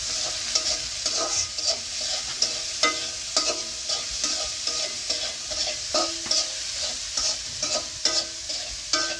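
Turmeric is stirred in a frying pan over quiet sizzling oil, with a rhythmic series of spatula scrapes and taps roughly once a second, close and clear with no talking.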